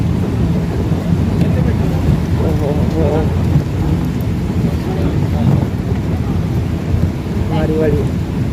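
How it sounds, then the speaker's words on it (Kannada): Heavy rain pours steadily over a green rural Indian landscape of areca and banana groves, with a dense constant wash and low rumbles suggesting thunder, while faint voices surface now and then. "ಜೋರು ಮಳೆ"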